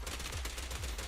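Rapid bursts of automatic gunfire in the Power Rangers Legacy Wars game, tight repeated shots rattling close and loud in a quick rhythmic string with no talking.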